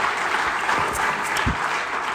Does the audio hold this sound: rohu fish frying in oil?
no